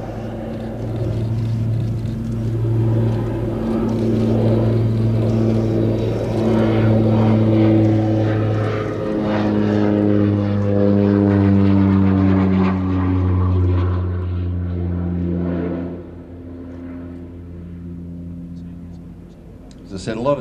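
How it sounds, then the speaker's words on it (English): A North American OV-10 Bronco twin-propeller aircraft makes a slow fly-past at an air festival, its loud droning engine tone sweeping steadily across the sky and dropping in pitch as it passes, while an announcer talks over it throughout. "So this is gonna be a nice slow fly past."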